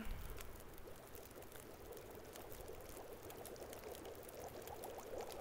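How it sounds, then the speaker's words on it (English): Water boils in The Long Dark video game as a steady, faint, bubbling hiss, continuous and unchanging throughout, with no talking. "boil the water."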